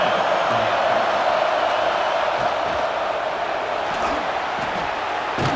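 A packed stadium crowd roars steadily at a Washington Huskies vs Arkansas Razorbacks college football game, a dense, loud wash of cheering with scattered shouts throughout.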